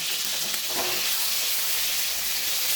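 Sliced ridge gourd fries in hot oil with salt, giving a loud, constant sizzle and hiss close to the pan, with no voices.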